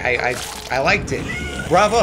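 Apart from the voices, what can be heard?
the speaker's cat meowing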